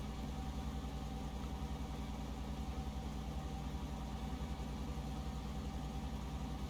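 A Strv 103 tank's turbine engine in a video game drones at a steady, constant hum with a low vibrating rumble, unchanging throughout with no voices.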